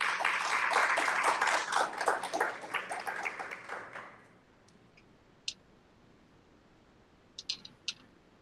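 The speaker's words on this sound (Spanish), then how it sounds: "los invito para que recibamos con un fuerte aplauso a la doctora Ángela Estela Camacho" An audience claps to welcome Dr. Ángela Estela Camacho to a talk on empowering girls and women in technology. Dense, steady applause fills the first four seconds, then dies away into near-silence broken by a few faint clicks.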